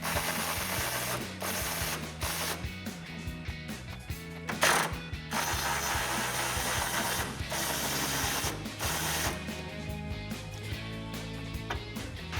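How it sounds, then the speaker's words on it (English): A hand ratchet on an 18mm socket clicks steadily while nuts are backed off a 2019-2024 Chevrolet Silverado 1500 rear bumper, close up and continuous with brief pauses. "grab an 18mm socket and a ratchet or an impact gun if it'll fit. Go ahead and take them off"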